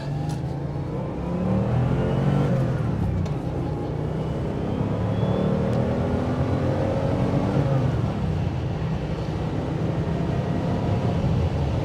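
A 1986 Porsche 911 Turbo coupe accelerates on the road, heard from inside the cabin: a steady rising engine drone with rumbling low end and road noise, continuous and moderately loud, with no talk.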